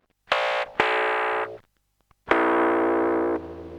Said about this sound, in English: Variable synth depth and speed.